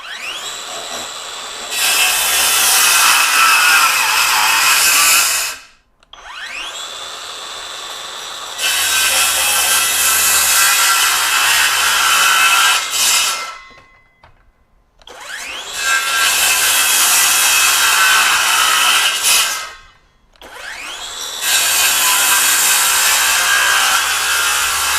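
A SKIL CR5440B 20V brushless 7-1/4-inch circular saw makes four loud cross cuts through wood. Each cut is a sustained, rasping whine lasting several seconds, with brief quiet gaps between cuts as the blade spins down.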